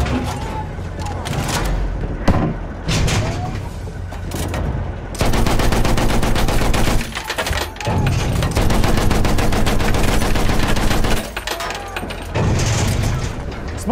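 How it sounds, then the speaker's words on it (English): Enemy machine gun fire in the Battlefield 1 game on the Suez map, sustained rapid bursts with booming impacts filling most of the span, loud and close, interrupted by brief gaps. "Enemy machine gun."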